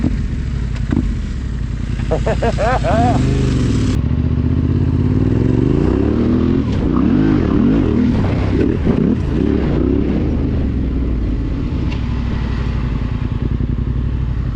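A loud motorcycle engine with a baffle in its exhaust roars and revs repeatedly with a raw, throaty sound, rising and falling in pitch close by, with voices faintly underneath, on Nevada's Logandale Trail.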